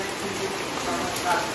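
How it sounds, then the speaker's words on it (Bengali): Rain falls steadily outside a home, a soft continuous hiss of drops on surfaces heard at moderate distance with no talking. "দেখুন কিভাবে বৃষ্টি পড়ছে, বৃষ্টি কিভাবে হচ্ছে দেখুন।"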